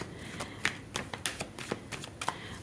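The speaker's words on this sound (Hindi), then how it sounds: "प्लीज़ मुझे कलेक्टिव्स के लिए कार्ड्स निकाल के दीजिए" Tarot cards shuffled and drawn by hand: a run of crisp, papery riffles and slaps, close and moderately loud, with no voice over them.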